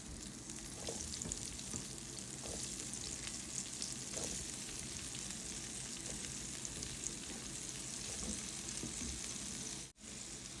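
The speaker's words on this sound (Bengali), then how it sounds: "এই তেলের ভিতরেই আমি ফুলকপিগুলো ভেজে নিচ্ছি" Cauliflower florets frying in oil in a pan beside potatoes, an even, continuous sizzle heard from close by at a fairly low level with faint stirring.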